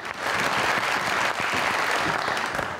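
Studio audience applause on a Pakistani talk show set, a dense steady wash of clapping that stays loud and sustained throughout as guests take their seats.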